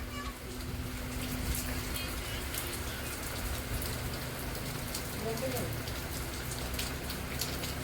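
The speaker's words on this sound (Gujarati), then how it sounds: "વરસાદ પડે મેરી જાન." Rain falls steadily outdoors, a continuous close patter with scattered sharper drop hits throughout, and a faint low hum beneath.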